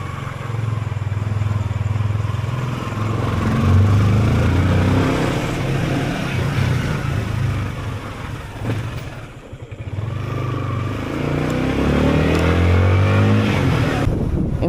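A motorcycle carrying a rider and passenger on the way to Casiguran, its engine droning steadily and loudly throughout with wind rush and some clatter, dipping briefly mid-ride before picking back up.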